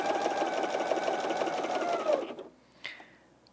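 A BERNINA L 660 overlocker stitches a decorative rolled hem with a steady, fast mechanical whir that stops abruptly, followed by a brief click.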